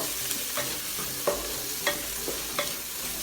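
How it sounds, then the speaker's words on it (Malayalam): Beef curry with cut coconut is stirred in a hot pan, a soft sizzle running under several distinct scraping strokes of the spoon at a loose, regular pace. "അത് ആഡ് ചെയ്തു നന്നായി ഇളക്കുക"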